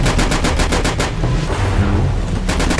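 Rapid automatic gunfire in a virus apocalypse survival video game, loud close bursts of evenly spaced shots, a short pause, then another burst starting up.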